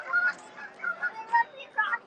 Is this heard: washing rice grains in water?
no